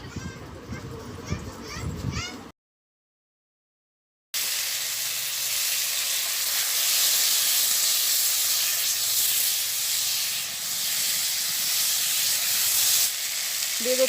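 Garlic and two leaves hit hot oil for a village-style fish fry, and a loud, steady, broad hiss of sizzling follows a short silence and continues to the end. A voice speaks at the start.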